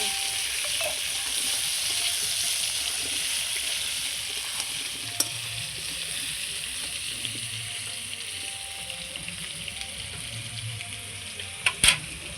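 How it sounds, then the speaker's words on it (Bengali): Potatoes with turmeric and salt fry in hot oil, giving a steady, even sizzle throughout, with a few sharp utensil clicks near the middle and at the end, and no voices. "এবার আলুটাকে আমি হলুদ লবণ দিয়ে খুব সুন্দর করে লাল লাল করে ভেজে নেব"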